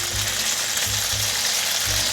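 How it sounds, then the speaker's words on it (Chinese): Dried tofu frying in a pan of oil for a vegan dish, giving a steady close sizzle that runs throughout with no talking. "这豆干先煎一煎，"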